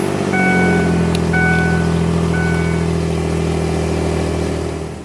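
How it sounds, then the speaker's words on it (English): A truck engine runs at a steady idle, used as the donor vehicle with the good battery in a jump start. The drone is loud and even, then fades toward the end. "Now we're going to start the engine on my truck, which is the good battery, and let it run for 2 minutes."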